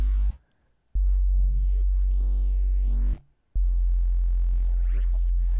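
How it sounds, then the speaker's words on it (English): A plain sine wave synth preset in Phase Plant plays gliding tones with a little distortion, with notes bending up and down between short silent gaps. "it's just a sine wave with distortion"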